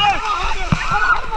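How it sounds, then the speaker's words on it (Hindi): Water splashes and sloshes around amid loud crowd chatter and shouting at a Holi celebration at Moopun Waterfall, Meghalaya, with a brief low thump in the middle. "पानी उड़ाते हुए हर तरफ से"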